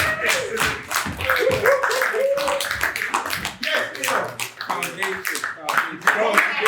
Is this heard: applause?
yes